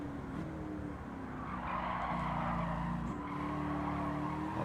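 Lamborghini Countach sliding through a corner in the racing game Gran Turismo 7, a steady engine drone with a rising tire scrub and squeal layered over it, loud and continuous.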